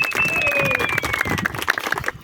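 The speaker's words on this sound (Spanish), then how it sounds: "También un gran aplauso para el Comité de Mujeres, por favor, de la UNORCA." A crowd applauds the UNORCA women's committee at a community gathering: dense, steady clapping under a thin high whistle-like tone, with some talk mixed in, then cutting off abruptly at the end.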